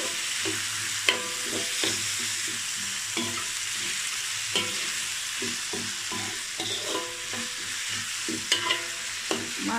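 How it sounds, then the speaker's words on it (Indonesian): Vegetarian nasi lemak ingredients are stirred and tossed in a hot pan, with steady frying sizzle under repeated scraping and clanking of the utensil against the pan. "Gaulkan sebati."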